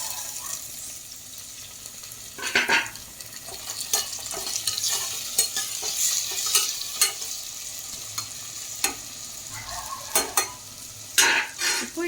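Chopped tomatoes sizzle in a hot pan of fried onions for mutton gravy, a steady crackle broken by repeated scraping stirs of a spatula, close and fairly loud.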